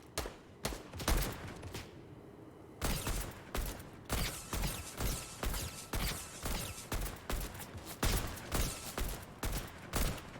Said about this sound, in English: Shooting at a bot. It's not really person.